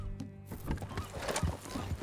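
Horse hooves clip-clop at a ride's pace in Red Dead Redemption 2, a steady trotting rhythm mixed with a brief whinny and ambient game sound, fairly faint overall.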